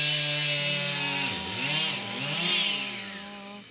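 A chainsaw cutting wood runs loud and close, its engine whining steadily, then dipping and revving back up twice as it bites into the cut.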